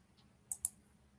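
Two quick, sharp laptop keyboard clicks in close succession, close and crisp, against near silence.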